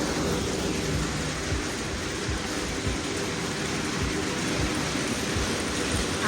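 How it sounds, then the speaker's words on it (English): Hailstorm pelting skylights, a dense, loud, unbroken hiss of hard impacts with scattered sharper knocks throughout, no voices. "So, man, there's a hailstorm now."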